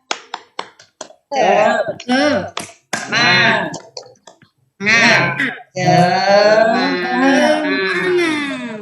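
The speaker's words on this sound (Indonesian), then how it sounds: "Mari tepuk tangan, tepuk semangat." Classroom clapping for a rhythmic 'tepuk semangat' cheer during an Indonesian peer-teaching lesson: a quick run of sharp, evenly spaced claps, then voices chanting and speaking loudly over the rest.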